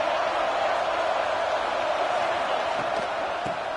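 Stadium crowd in the College Football 26 video game, a steady, dense roar that stays loud and unbroken from start to finish.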